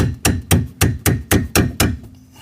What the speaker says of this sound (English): All I'm going to do is tap that ring round.